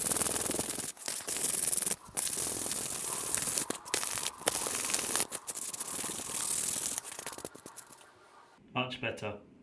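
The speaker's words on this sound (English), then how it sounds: "Let's give these a little rub down to take out any imperfections, because they're a little bit scratched up." Scotch pad rubbing down scratched car parts for a Polo 6n2 Quattro project, close scratchy scrubbing strokes in uneven bursts with short pauses, then a voice at the end.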